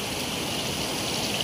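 Rain falls outdoors beside a village stream as a steady, soft, even hiss of drops with no other sound standing out.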